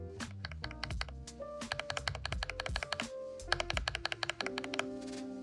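Close-up typing on a Glorious GMMK Pro mechanical keyboard with Holy Panda tactile switches: a steady run of crisp clacks and thocky keystrokes in irregular bursts, with a few heavier key presses, such as the Enter key, standing out.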